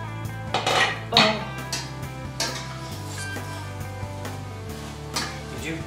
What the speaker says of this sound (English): we do want to keep checking and keep stirring because you don't want it to burn